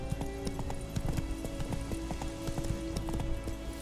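The horse Roach's hooves clip-clop in a steady, close trotting rhythm in The Witcher 3: Wild Hunt, with a low background hum.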